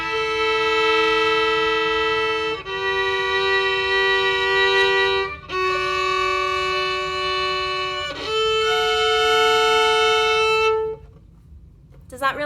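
A violin plays long sustained bowed notes without a melody, four held tones changing pitch every few seconds, steady and fairly loud, with a faint noisy background, ending in near silence.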